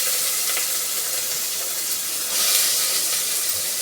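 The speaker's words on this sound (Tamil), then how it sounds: "கடுகு தெரிச்சிச்சு." Mustard seeds sputter in hot oil for a chapati gravy, a steady close hiss of frying with faint pops and crackles that swells briefly near the end.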